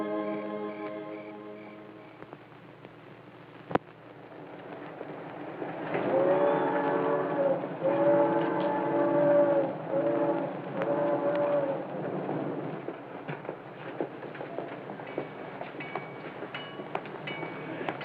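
A steam-era train rolls into a railroad station, a loud sustained rumble with whistle-like harmonic tones building in the middle and easing off toward the end, with no talk over it.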